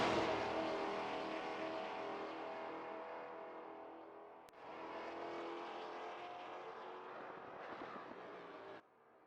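Maserati race cars circling Monza in a racing video game, a loud sustained engine drone that rises and falls in pitch as the cars accelerate, with a brief dip midway and an abrupt cutoff near the end.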